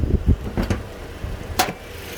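The 2.7 petrol engine of a 2019 Toyota Hilux Workmate idles steadily with the bonnet open, with a few thuds and clicks from handling nearby over the low hum.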